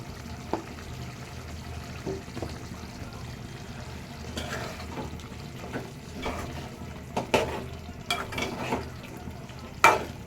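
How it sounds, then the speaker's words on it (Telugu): Chicken and spinach curry is stirred in a pan, with a soft simmering sizzle and scattered scraping clinks of the spoon against the pan, some sharper near the end. "ముక్క చెదరకుండా ఇలా కలుపుకోవాలి సైడ్ సైడ్"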